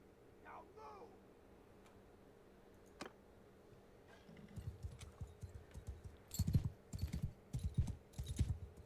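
Cavalry horses gallop in the video game Mount & Blade Bannerlord, a thick run of rapid hoofbeats that starts faint and swells louder and closer over several seconds, with a brief voice early on.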